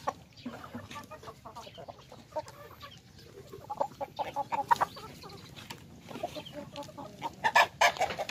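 A rooster penned alone on a Philippine farm gives soft, repeated clucks and short calls at close range. Other farmyard fowl murmur in the background.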